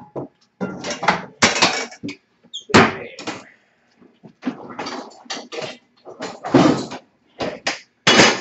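Loud metallic clanks, knocks and scrapes come in irregular bursts as a saute pan and other cookware are handled on a kitchen stove, close up, with short pauses between the clatters.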